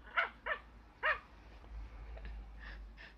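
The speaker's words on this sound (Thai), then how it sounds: "มันจะเห่าเฉย" A dog gives several short, sharp barks in quick succession, followed by softer yips and whimpers, fairly faint over a low background hum.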